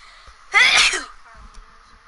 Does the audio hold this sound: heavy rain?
no